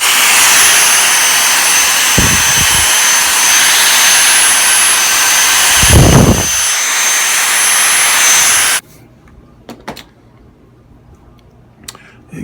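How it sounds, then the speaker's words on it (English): A vacuum cleaner sucks loose debris out of a guitar body with a floating bridge. Its loud, steady roar runs close for about nine seconds, with a few bumps along the way, and then cuts off, leaving faint handling noises. "let's take a vacuum cleaner and we'll suck out all that junk that's in there"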